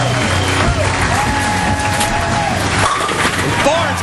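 A packed crowd applauds and cheers at a 2009 PBA bowling tournament final, a steady, loud wash of clapping and shouts filling the bowling center, with a commentator's voice talking over it.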